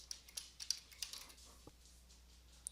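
A paper title is typed on a computer keyboard: sparse, quiet, close key clicks in irregular bursts, with a sharper cluster of taps at the end and no talking.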